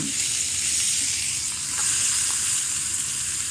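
A steak hits a hot pan and sizzles loudly, a dense, steady hiss close up that runs unbroken for a few seconds.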